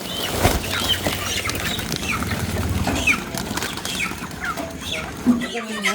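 Loose chickens at a poultry breeding farm cluck and squawk in scattered short calls, with wing flaps and other fowl noises over a steady outdoor background.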